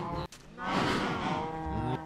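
A cow in the Minecraft video game gives one drawn-out moo, close and clear, with no talk over it.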